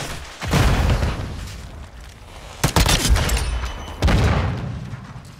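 Heavy Call of Duty: Modern Warfare II gunfire: loud, booming bursts and fusillades crack out in clusters, with a dense rattle of shots and explosive hits that swell and fade across the battle.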